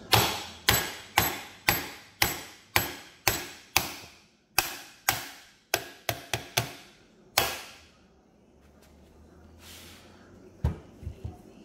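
A hammer strikes the worn inner cage of an RCV axle shaft in a steady series of about fifteen sharp, loud metallic blows, then pauses, with a couple of fainter taps at the end.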